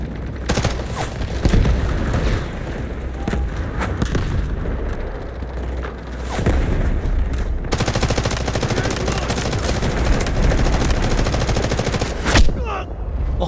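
Rapid bursts of automatic gunfire and heavy booms pile up in a loud, chaotic firefight in the video game Delta Force, shots crackling almost nonstop with scattered explosions.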